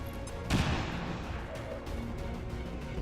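A grenade explodes in the turn-based strategy game Long War 2 with a sharp, loud burst followed by a rumbling decay under continuous game ambience, with no talking.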